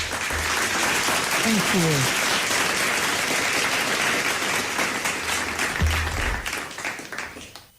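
Audience applause fills a debate hall during a youth debate on whether social media harms mental health, steady loud clapping throughout with a brief spoken thanks over it.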